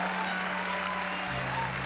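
A church congregation claps loudly for Jesus in a steady, dense wash of applause throughout.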